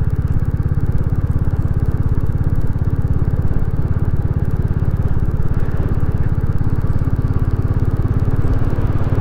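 A Royal Enfield Classic 350 motorcycle ridden along country roads near a village and valley, with a steady, close, thumping single-cylinder exhaust beat throughout.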